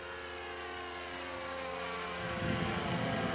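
An HP VT21 four-stroke engine drives a radio-controlled model plane in flight, giving a steady, buzzing drone that swells louder and rougher for the final second.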